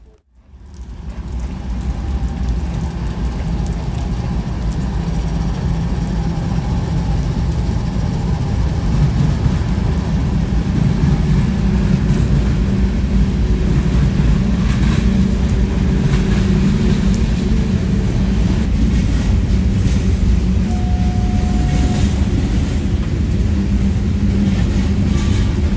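Westbound manifest freight train 18K rolls into a station beneath the canopy in pouring rain, a steady, loud rumble and clatter of wheels and cars persisting for the whole stretch, with a brief tonal squeal partway through.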